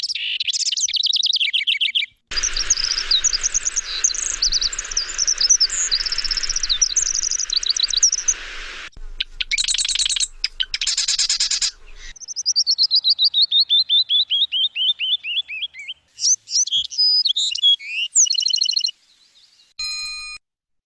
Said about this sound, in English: So the Wrens make nice songs, pretty musical, but in general, they're pretty frenetic and kind of ADD, and just a lot of jumbled notes.